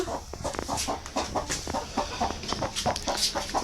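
Hens clucking on a poultry farm where the birds are laying eggs, a steady run of short, close clucks and murmurs repeating throughout with no one talking.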